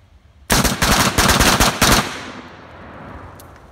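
A rifle fitted with a Franklin Armory BFS3 binary trigger fires a rapid string of sharp, loud, close shots lasting about a second and a half, then the echo decays into quiet outdoor ambience.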